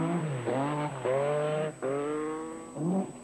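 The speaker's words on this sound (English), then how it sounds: "Marco Elaine has chosen to drive a Stratos for this event." A Lancia Stratos rally car races on tarmac at a 1978 British rally event, its engine loud and close as it revs hard through several gear changes, with rising whines between brief drops.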